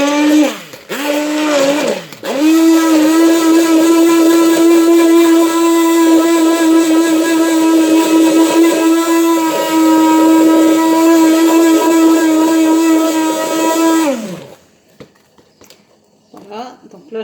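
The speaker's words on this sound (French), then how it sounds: "Là j'ai mis 125 g de fraises avec 25 g de sucre que je vais réduire en purée à l'aide d'un mixeur plongeant." An immersion blender purees strawberries with sugar, its motor whining in a loud, steady tone for about twelve seconds after a couple of short starting bursts, then winding down and stopping.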